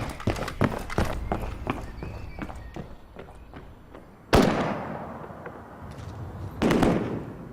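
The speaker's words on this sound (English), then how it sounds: "Most people in the high street mistake the bursts of gunfire for fireworks" Rapid bursts of sharp automatic rifle gunfire crack and echo down a town street and alley, with a rattling series of shots followed by two louder blasts that ring out.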